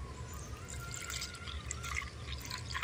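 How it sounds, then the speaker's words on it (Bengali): Milk trickles and splashes softly from a bowl into a hollowed watermelon rind, a quiet, steady pour against low background noise. "এই দুধটা এবার আমি তরমুজের খোসার মধ্যে ঢেলে দেব"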